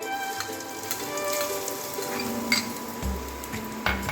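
Finely chopped onion and chillies sizzle in hot oil for a Goan fish curry, giving a steady, close crackle with a few sharper pops near the end and no talking.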